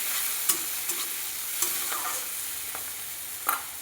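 Fish oil stirred in a frying pan, a faint steady sizzle broken by a few light, sparse scrapes of the utensil against the pan, quiet and close with no talking.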